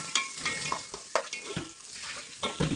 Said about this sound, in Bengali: রান্না শুরু করেছে পেঁয়াজ দিয়ে দিচ্ছে